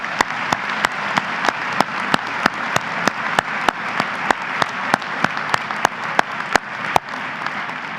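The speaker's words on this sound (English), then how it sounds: "One more round of applause for our class." Sustained applause from the audience at a college matriculation ceremony fills a large hall, with a strong regular beat of sharp claps standing out over the steady wash of clapping.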